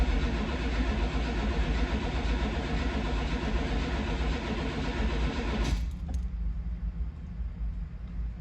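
A small-block Chevy V8 fitted with a Holley Sniper 2 fuel injection system cranks on its first start attempt, giving a loud, steady, churning drone that cuts out abruptly near the end.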